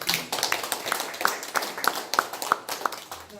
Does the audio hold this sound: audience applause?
yes